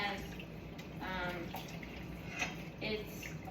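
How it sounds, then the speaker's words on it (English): Pasta water is poured out of a pot without a strainer, making a running, splashing stream in short bursts with someone talking alongside. "I pour the pasta water out."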